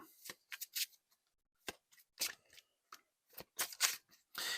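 A deck of tarot cards is shuffled by hand in a quiet room, giving sharp irregular bursts of papery riffling and slaps, near and clear, separated by brief silent pauses.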